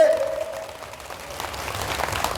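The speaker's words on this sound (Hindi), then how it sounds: "जोर से ताली बजाइए आगरा पुलिस के लिए।" An audience applauds Agra police at a public address: dense, sustained clapping from a crowd, fairly close and steady throughout.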